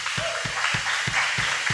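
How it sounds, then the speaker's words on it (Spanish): A church congregation claps in a steady, fast rhythm during a worship service, the loud repeated claps riding over a broad wash of crowd noise. "dale fuerte ese aplauso al Señor"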